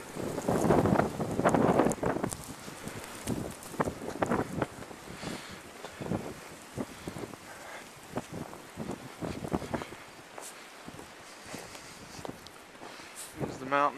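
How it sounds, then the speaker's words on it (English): Gusting blizzard wind roars in heavy bursts against the microphone, loudest at the start and then buffeting irregularly, while a person talks intermittently underneath. "Comes another gust of wind."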